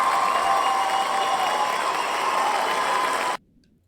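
A played sound effect of crowd applause and cheering, a loud, steady wash of clapping and whooping that runs evenly and then cuts off sharply, leaving near silence.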